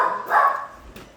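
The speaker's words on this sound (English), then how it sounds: "Sorry about my dogs barking in the background." Pet dogs barking somewhere in the background of a home, a couple of quick yips and barks in a short burst.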